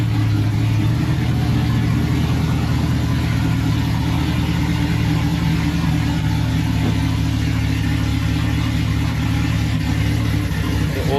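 A Chevrolet Silverado truck's old engine idles loudly and steadily just after being started, a constant low rumble with a faint whine above it and no talking.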